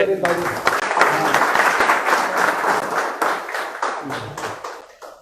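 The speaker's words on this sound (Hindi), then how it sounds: "जोरदार तालियां भाई।" Hearty applause from an audience at a Delhi Congress press conference, dense clapping lasting several seconds close to the microphone before tapering off, with a few voices speaking over it.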